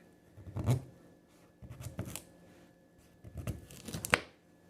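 A knife cuts sweet potatoes into fries, giving a few separate close chopping strokes and thuds against the board, with quiet gaps between them and a sharp final cut.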